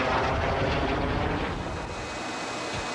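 A MiG-17 jet fighter flies at an airshow at EAA AirVenture Oshkosh in 1994, heard as a broad, loud roaring rush of jet engine noise that eases slightly in the latter half, with no voices.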